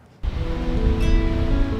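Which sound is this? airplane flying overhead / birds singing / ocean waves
ocean waves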